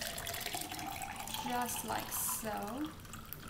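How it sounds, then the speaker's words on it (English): A drink poured from a cocktail shaker into a glass, a short trickling splash under a person talking nearby. "take it off the shaker. Let's go ahead and pour it into a glass"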